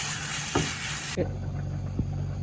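Coconut pepper chicken fries over medium heat in a pan, sizzling with a bright hiss that cuts down abruptly partway through, while a few scraping stirs and light taps land close by.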